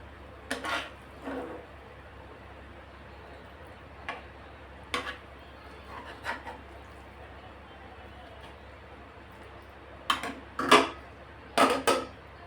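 Eggplant bharit and jowar bhakri being served onto a plate, with sporadic clinks and taps of utensils against dishware, close but soft, spaced out with quiet gaps and heavier clatter near the end.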